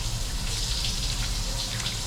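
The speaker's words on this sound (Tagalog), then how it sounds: "Tapos maglagay tayo ng tubig." Water pours steadily into a cooking pot of coconut milk, a continuous close gushing splash with no talking.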